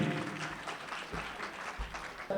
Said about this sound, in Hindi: जरा जोरदार तालियों से इस्तकबाल कीजिए।